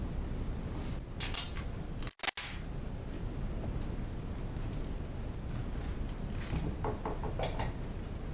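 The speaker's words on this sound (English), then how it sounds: "So I'm doing a bit of sticky tape." Sticky tape is pulled and torn off in a workshop while repairing stripped threads in a head: short, faint ripping bursts at the beginning and again near the end, with a couple of sharp clicks between.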